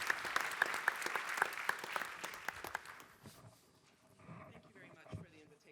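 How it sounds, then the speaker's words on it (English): Audience applause welcoming a business executive onto a conference stage, a crowd clapping briskly with some close, distinct claps, then fading out into quieter room noise and faint movement. "A warm applause."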